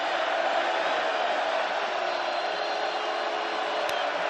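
Loud football stadium crowd at an NCAA FCS championship quarterfinal between South Dakota and Montana, a steady, dense roar of noise holding constant throughout, with no clear individual voices.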